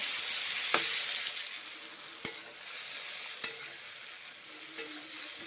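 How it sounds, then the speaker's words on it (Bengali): Onions stir-fried in a pan give a continuous close sizzle, broken by a few sharp spatula knocks against the metal spaced a second or more apart, with no voices. "দেখুন বন্ধুরা ভেজে নিচ্ছি পেঁয়াজগুলো"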